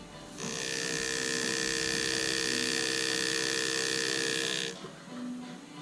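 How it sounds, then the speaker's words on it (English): A pneumatic engraving tool whines at a steady high pitch for several seconds while cutting metal, then shuts off, leaving low background noise. "picking up a graver and a pneumatic engraving system and going to town."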